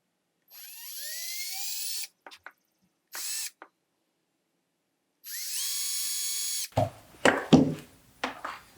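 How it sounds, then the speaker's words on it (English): A small drill with a 3/64 inch bit boring holes in a wooden crankbait lure body, whining in three short bursts separated by silence, followed by clattering handling noises of the tool and workpiece close by. "Going to use 3/64 inch bit to drill these holes."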